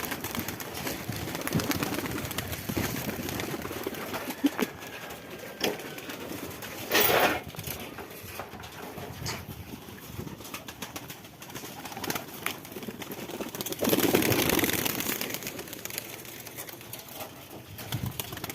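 Native pigeons on a home rooftop loft coo in soft, low, repeated calls, with a couple of louder bursts that may be wing flaps or scuffles partway through; no one speaks.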